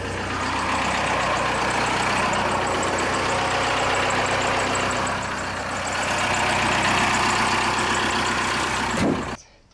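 A Ford F350 Bullnose project truck engine idles loudly and steadily up close, a continuous rumbling run that cuts off abruptly near the end.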